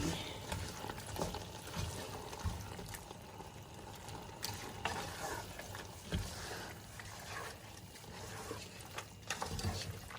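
Spinach sauce stew being stirred in a pot, with faint, intermittent scraping and soft wet churning over a low simmering hiss, quiet and close with no talk.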